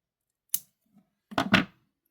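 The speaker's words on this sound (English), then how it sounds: "And snip off the excess." Wire cutters snip off excess wire while beading, giving a short sharp click followed a moment later by a cluster of two or three close crisp snips and handling sounds, near and fairly quiet.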